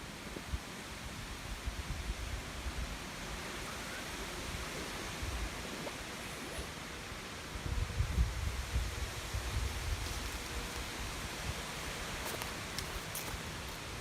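Strong wind roars across a mountain top on the Appalachian Trail, a constant close rushing noise that swells in a heavier gust midway, with no voices.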